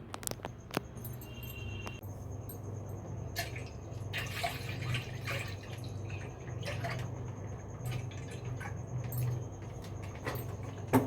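Water drips slowly and unevenly, being wasted from a swollen, leaking roof in a home, with faint clicks and small household noises around it and no talk.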